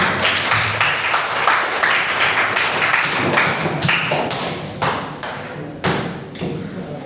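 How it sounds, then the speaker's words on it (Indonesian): A group claps together, a dense patter of hand claps with a few louder sharp slaps standing out near the end, fairly close. "Beri tepuk tangan untuk kelompok"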